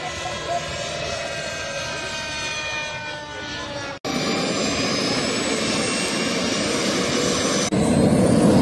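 A small high-revving model helicopter engine at a model flying event whines steadily with sharp tonal harmonics, loud and close, cutting briefly around the middle before resuming.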